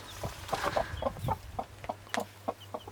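Broody hens with young chicks clucking nearby, a steady run of short, soft clucks and peeps at an uneven rhythm, close by and alone.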